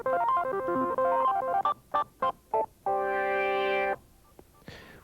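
Notes from a Kurzweil K2500 synthesizer with its default user envelope: a quick melodic run, then several short staccato stabs, followed by a held chord that cuts off abruptly, moderately loud and unaccompanied.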